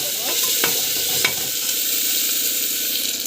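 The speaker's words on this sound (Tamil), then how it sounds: "சீரகம், ஆனியன், ஸோ பூண்டு வந்து போட்டுக்கலாம். பூண்டு போட்டுட்டு நல்லா வந்து வதக்கிட்டு." Cumin, onion and garlic sizzle steadily in a hot oiled pan, a loud, continuous close-up hiss broken by a couple of sharp scrapes from a stirring spoon.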